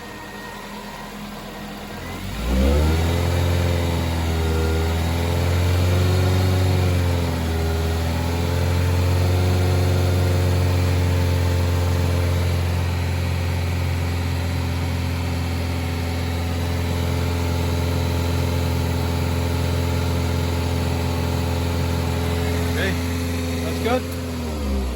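Suzuki SX4 J20B engine rising from idle and holding a steady 2,500 RPM during an alternator charging check, a continuous close, even hum with a brief dip near the start, voices talking over it.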